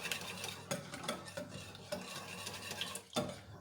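Pancake batter of egg yolk, flour and other ingredients is mixed in a bowl, with soft repeated scraping and stirring strokes at an uneven rhythm, close and quiet, with no voices.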